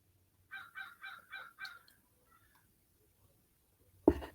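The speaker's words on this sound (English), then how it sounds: "Listen to them birds." Geese honk outdoors in five evenly spaced, fairly distant calls, followed by a couple of fainter cries, then a sudden loud close knock at the very end.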